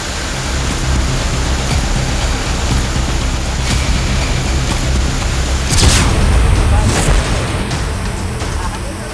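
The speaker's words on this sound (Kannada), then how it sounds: "ಫ್ಲೈಓವರ್ ಮೇಲಿಂದ ದುಮ್ಮಿಕ್ಕುತ್ತಿರೋ ನೀರಿಗೆ ಸವಾರರು ಪರದಾಡಿದ್ದಾರೆ" Heavy rain water cascades off a flyover onto a national highway in Bengaluru, a loud, steady broadband rush and splash that surges briefly stronger near the end.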